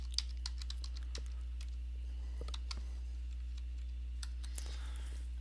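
Keys tapped on a computer keyboard while entering a username and email address, a quiet, steady run of light clicks with irregular pauses, close and faint, no talking.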